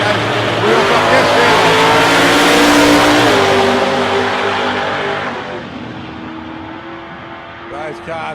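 Drag racing cars launch in qualifying at the Twilight Nationals, with a loud, sustained engine roar that fades as they pull away. A commentator talks over the noise.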